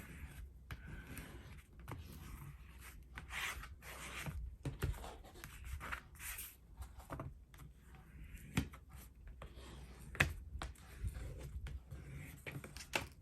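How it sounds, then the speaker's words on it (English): Paper being burnished down onto a mini album cover, faint soft rubbing strokes repeated in a quiet, irregular rhythm close by. "then we're going to burnish this down here."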